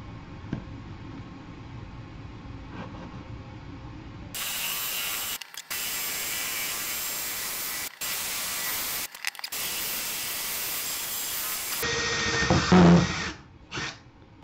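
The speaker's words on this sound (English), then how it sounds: "if you can drill straight down through here" Power drill boring through material for a chainmaille ring-making project, a steady high whine in two long bursts with brief pauses, then a lower grinding tail as the bit slows.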